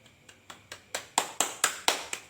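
Finger claps struck against the palm, starting soft and sparse and growing steadily louder over about eleven sharp, evenly spaced claps, close up and with no talk.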